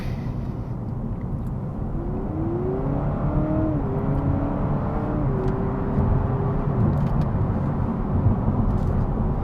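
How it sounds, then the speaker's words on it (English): A 2025 Honda Civic Sport Touring Hybrid with a 4-cylinder engine accelerates on the road, its rising engine note climbing steadily above a constant loud rumble of road and wind noise inside the cabin. "It's that sweet 4-cylinder sound."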